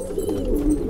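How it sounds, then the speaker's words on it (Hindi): A Patiala pigeon hen and others coo in a brief, close, continuous burble, with no voices present. "बहुत हसीन कबूतरी है"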